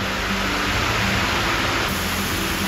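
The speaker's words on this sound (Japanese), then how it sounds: "あ、川の音がいい。" River flowing through a retro hot-spring town, with a dense, steady broadband rush of water that is loud and close, continuous and unbroken, with no talk.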